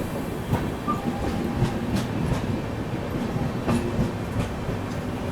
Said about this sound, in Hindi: चलिए, यहाँ पर आ गई गुड्स ट्रेन।